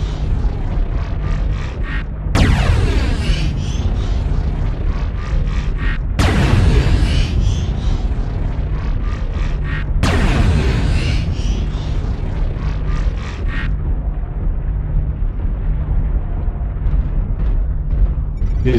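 Weapon fire and explosions in the MechWarrior Online mech combat game: several loud, sharp booming blasts land at intervals, each followed by rapid repeated firing and rumbling, over a constant low engine hum.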